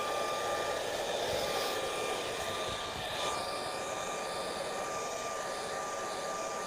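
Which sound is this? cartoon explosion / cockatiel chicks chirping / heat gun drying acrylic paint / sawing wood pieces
heat gun drying acrylic paint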